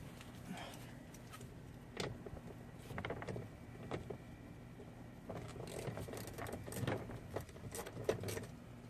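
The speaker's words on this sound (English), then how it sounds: "So I'll go ahead and grab the socket and we'll get that out." A socket wrench rattles and clinks as it is picked up and handled while working on an Infiniti G35's chrome window trim, quiet close metallic jangles in scattered bursts over a faint background hum.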